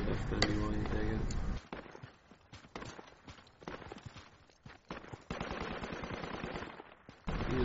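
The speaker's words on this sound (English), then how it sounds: "He just shot up from over there or something" Gunfire in Project Reality crackles in bursts and single shots, some close and loud, others distant, separated by quieter gaps, with a voice talking in between.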